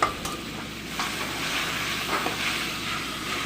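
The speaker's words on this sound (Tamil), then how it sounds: "இப்போ வேக வச்சதை எடுத்து நம்ம கொட்டி நல்லா அடிப்பிடிக்காமல் கலந்து விடுவோம்." Cooked bottle gourd kootu is stirred in a pan, a low steady bubbling sizzle with a couple of faint spoon scrapes, close and moderate, with no talking.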